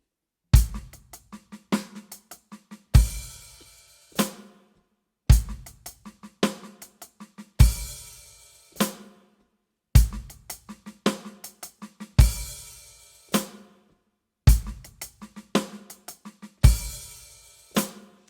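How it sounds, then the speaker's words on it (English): A paradiddle-diddle drum groove of rapid hi-hat and snare strokes with bass drum in repeating bursts, each phrase opened by a heavy accent, played alone with crisp, close attacks. "So the whole thing we have is paradiddle-diddle with a bass drum and a hi-hat"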